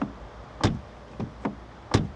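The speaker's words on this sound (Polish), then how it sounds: "No piękny dźwięk zamykania i otwierania drzwi." Doors of a 2018 Seat Leon ST 2.0 TDI estate car open and shut several times, giving four distinct solid thunks spaced irregularly, close up with no talking.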